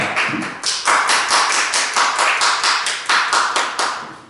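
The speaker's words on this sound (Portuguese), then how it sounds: "Pode aplaudir o Senhor, que Ele merece toda a honra e toda a glória, aleluia." A church congregation claps in a steady, loud rhythmic beat, sharp hand claps repeating evenly and close by with no talking over them.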